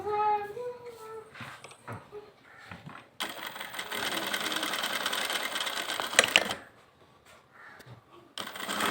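A sewing machine runs a steady, rapid burst of stitching on a space silk saree sleeve frill, loud and close for about three seconds, with softer handling noises and a short tonal blip before and after.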